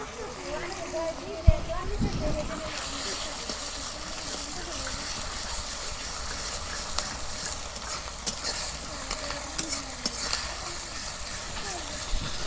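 Ground onion, ginger and garlic paste frying in hot oil for a tomato chicken curry, a soft steady sizzle with occasional stirring scrapes and clinks, fairly faint and continuous.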